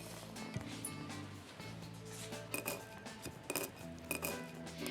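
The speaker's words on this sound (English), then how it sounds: "I'm gonna pop them right into my mortar and pestle." Toasted dried chili peppers drop into a mortar and pestle with faint, quiet clinks and light knocks, some in a short run near the end, over low room noise.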